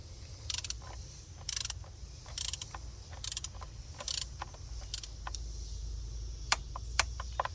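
Torque wrench set to about 80 inch-pounds tightening valve cover bolts on a 2007-2013 Nissan Altima, giving quiet, evenly spaced ratcheting clicks over a low steady background hum.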